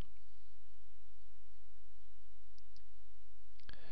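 A single crisp computer mouse click, close and isolated, near the end of a quiet stretch with faint steady background hum.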